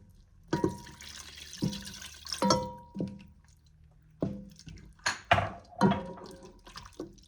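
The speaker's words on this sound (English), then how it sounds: "Now what I'm gonna do is I'm gonna add 1 cup of water." Water splashes in short, uneven bursts into a cooking pot for clam chowder, mixed with metallic clinks and clatters, close and moderately loud between quiet gaps.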